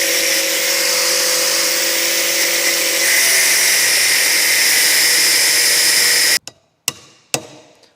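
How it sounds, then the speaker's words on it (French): An angle grinder cuts into a Jeep Cherokee axle wheel bearing ring, a loud sustained high whine for about six seconds, then stops abruptly and is followed by three sharp metallic strikes. "je vais l'attaquer à la disqueuse"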